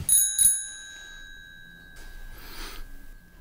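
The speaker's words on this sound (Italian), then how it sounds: "Ma cos'è, un campanellino per la bici?" A small bicycle bell gives two quick bright dings at the start, close and clear. Its ring fades out, then a faint rustle and a soft snort-like noise follow.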